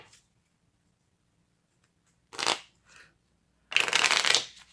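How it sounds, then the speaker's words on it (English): A short riffle of a tarot-style card deck followed by a louder, longer ripple shuffle, close up in an otherwise quiet room. "Let's give it a quick ripple shuffle."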